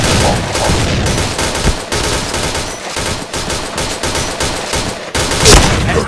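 Sustained automatic gunfire from the shooter game Point Blank, loud and dense bursts of rapid shots with brief gaps, one sharper blast near the end.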